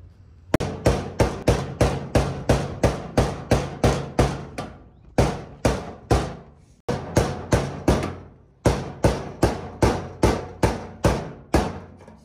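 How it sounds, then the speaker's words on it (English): A hammer taps a metal tab on a fuel pump sending unit in steady rhythmic strokes, each a sharp ringing clank, with a couple of short pauses between runs. Close and loud, no voices. "you pretty much get your hammer and tap on it"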